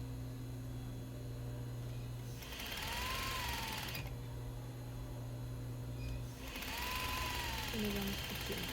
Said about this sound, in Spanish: Y nos vamos cosiendo.